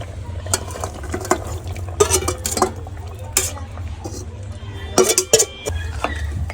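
Fried potatoes tipped into a garlic gravy in a pan, with wet plops, clattering scrapes and spoon-stirring sounds in uneven bursts over a low, steady hum.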